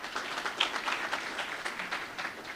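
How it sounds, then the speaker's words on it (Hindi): Faint applause from an audience at a training seminar, a soft, even patter of many hands clapping for a couple of seconds. "जोरदार तालियां"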